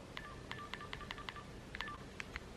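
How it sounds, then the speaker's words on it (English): Keypad beeps from an old 2000s cell phone as buttons are pressed, a quick irregular series of short tones, faint over a low background hiss. "It makes like cute noises when you touch it"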